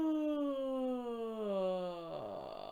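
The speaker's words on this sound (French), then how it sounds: "On peut finir la respiration par des bâillements avec du son." A drawn-out voiced yawn during a vocal warm-up, a long descending moan-like tone that trails off into a breathy, gravelly end.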